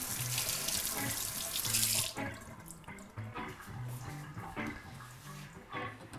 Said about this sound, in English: We need to rinse this under running water